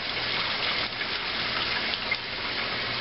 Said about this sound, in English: So I'm gonna just pour the water in right now.